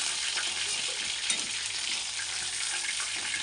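Stingray (shankar fish) pieces frying in a pan, a steady dense sizzle of hot oil that runs continuously and evenly throughout, close and fairly loud with no voices.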